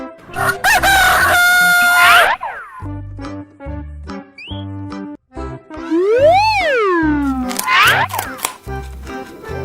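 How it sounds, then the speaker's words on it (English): A rooster crows loudly from nearby, the long rising-and-falling call heard alone amid other farm animal calls, with a steady rhythmic backing beat under it. "Rooster."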